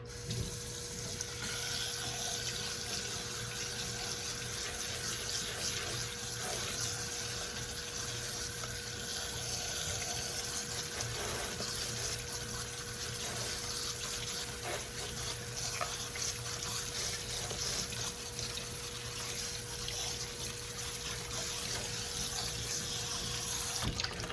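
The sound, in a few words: water running from tap, rinsing food in sink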